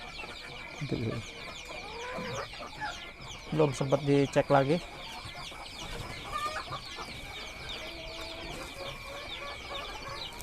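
KUB chickens in a small hatchery pen cluck and chatter close by, with a loud burst of rapid clucks in the middle, while people talk quietly over them.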